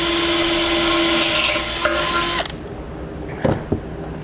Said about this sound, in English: then we'll drill a pilot hole.